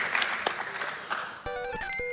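Applause rises from the audience at a live speedrun event for Chip 'N Dale: Rescue Rangers after a boss fight, a close burst of clapping that fades as game music and beeps take over.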